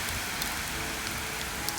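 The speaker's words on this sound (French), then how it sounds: "Vous entendez la pluie? Bah non, c'est la grêle." Hail falling outside in Brittany, a dense steady hiss of pattering ice with occasional sharper taps, heard alone at moderate level.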